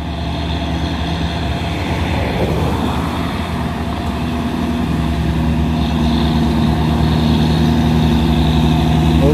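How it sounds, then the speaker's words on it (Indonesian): Box truck and dump truck engines labor on a steep hill road, a steady loud diesel drone with low rumble continuing throughout, no voices. "Truk box dan dump truk."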